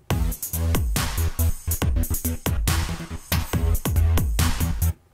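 Punchy synthesizer notes in a fast rhythmic pattern, each with a bright filtered attack that quickly closes, looping for several seconds before stopping.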